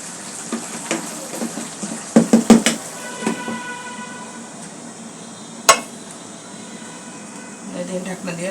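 A lid goes onto a pan of frying papaya with a metallic clatter and clinks over a background sizzle, followed later by one sharp clank. A person talks throughout.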